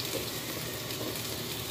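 Onions sauté in a pan for chicken sinigang, giving a brief, even, close sizzle of frying with no voices.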